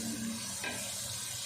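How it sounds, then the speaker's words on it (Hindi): Carrots, potatoes and other vegetables fry with spices in a pot for pulao, a steady close sizzle with faint stirring scrapes. "सारी सब्जियों को हम मसाले के साथ भून लेते हैं"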